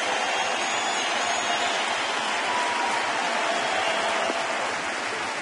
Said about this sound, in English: how about the round of applause for Jaime Garcia?